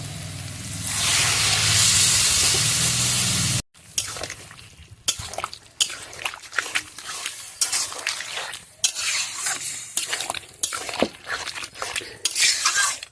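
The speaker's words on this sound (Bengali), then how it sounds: "সব শুটকি মাছ দিয়ে পরিমাণ মতো জল দিয়ে দেবো।" Dried fish and water go into a cooking pot: a loud, steady hiss of liquid hitting the hot pot for a few seconds, then a run of scattered clinks, scrapes and stirring knocks against the metal.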